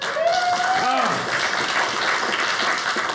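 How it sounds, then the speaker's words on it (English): Audience applause and cheering at a stand-up comedy show, a steady wash of clapping from the crowd with a few whoops and voices rising above it, loud and sustained. "Round of applause if you've ever been in love."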